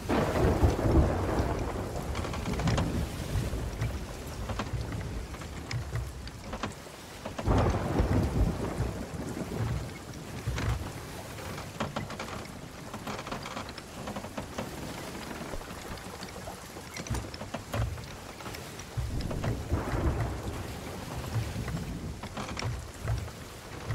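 A stormy scene in the pirate game Sea of Thieves, with steady heavy rain pouring and spattering on surfaces while repeated thunder rumbles and cracks swell through it, loud and continuous with no voices.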